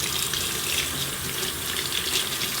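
Running water pours steadily from a tap while a makeup brush is washed under the stream, producing a continuous close splashing hiss with no talk.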